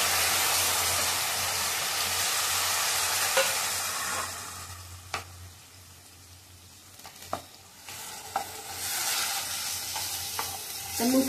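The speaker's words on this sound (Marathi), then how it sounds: "आता ह्याच्यामध्ये आपण टाकणार आहोत भाजी. मूग आणि बटाटे सोललेली मूग आहे." Peeled mung beans and potatoes are stirred in a pan for a Maharashtrian festive thali, a steady frying sizzle under scattered spoon scrapes and clinks, close and moderately loud with no talking.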